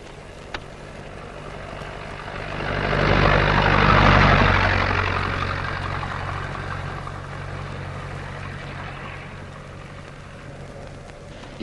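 In an old radio drama sound effect, a truck engine rumbles in from a distance, swelling to a loud close roar and then settling into a lower steady hum as it pulls up, with no voices.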